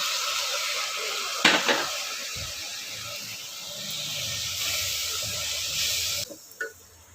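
Finely chopped spinach sizzles in a pan while cooking for spinach rice, a steady hiss with a few clinks of a utensil stirring close by.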